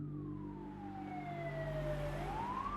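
Ambulance siren wailing, a single falling then rising sweep of tone heard alone and fairly faint, as if at some distance.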